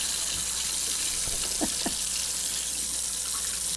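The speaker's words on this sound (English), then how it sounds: "let's get it underneath the water" A 1986 Cohiba Lancero cigar is held under a running tap, giving a steady close splashing rush of water with a couple of faint knocks partway through and no talk.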